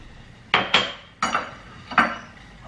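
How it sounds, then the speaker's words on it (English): A teaspoon scraping and tapping the caramelised sugar top off a creme brulee, giving four sharp clinking scrapes at irregular intervals, close and fairly loud over a quiet room. "Take a teaspoon and just gently scrape the top layer"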